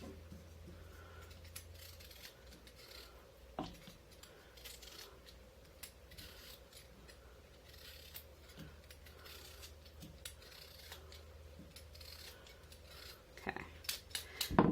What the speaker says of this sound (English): So continue peeling towards you or away from you, whichever you prefer.